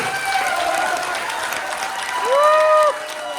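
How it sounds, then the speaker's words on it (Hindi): A seminar crowd in Rajkot, Gujarat breaks into dense, sustained applause. A few raised voices, which may be cheers or talk, rise briefly above the clapping near the end. "बिल्कुल खतरनाक वाली तालियां बजनी चाहिए।"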